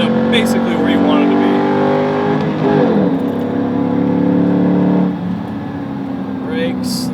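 A Ford Mustang powers loudly through track turns, its engine note rising and falling under gear changes, then easing off near the end, with someone talking over it.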